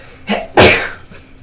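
A single sharp sneeze, close and loud, preceded by a brief inhaled catch of breath.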